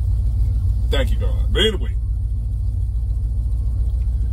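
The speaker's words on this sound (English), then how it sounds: "So I am in a 66 car with air conditioning" Inside a 1966 car with its air conditioning running, a steady, loud low rumble fills the cabin while someone speaks briefly over it.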